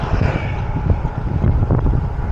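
Strong headwind buffets a cyclist's microphone during a gravel race in Talavera, Nueva Ecija, a loud continuous rumbling roar with gusty swells throughout.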